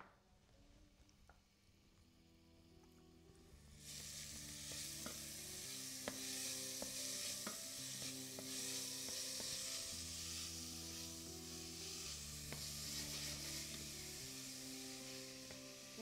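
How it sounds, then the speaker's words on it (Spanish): Sofrito with garlic and salted meat in a pan: a quiet start, then a loud, steady sizzle for the rest of the clip, with occasional stirring taps under gentle background music. "el sofrito lo tendremos unos 5 o 10 minutos hasta que reduzca bien"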